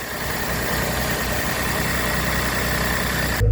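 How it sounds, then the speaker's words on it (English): A 2020 Ford Transit van engine idles steadily close by, a constant low mechanical hum with faint vibration and no revving until a brief change at the very end. "Okay, with the motor running."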